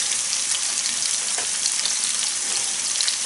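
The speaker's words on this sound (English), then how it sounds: "we've put it on with the lard melting" Meatballs frying in melted lard on a hob, a dense, steady, close sizzle crackling evenly throughout without pause or voices.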